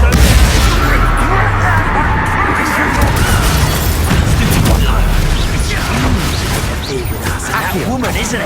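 Incendio fire spell cast in the video game Hogwarts Legacy, loud whooshing bursts and crackling impacts amid busy combat noise, with talking layered over parts of it.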